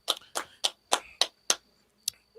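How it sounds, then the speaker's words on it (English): One person claps a slow, evenly spaced handful of times, about six crisp close claps with a pause before a final one, in an otherwise quiet room. "Round of applause for growth."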